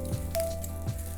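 Butter sizzles in a cast iron pan during a Texas crawfish boil and elote cook, a soft, steady, low-level crackle under a faint hum with no talking.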